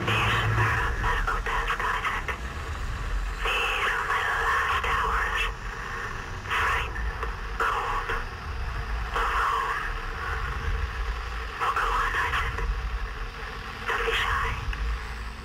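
A dense, droning horror spaceship ambience from the video game Dead Space 2, with low rumbling hum and shifting mechanical hisses and whooshes, steady and unsettling throughout.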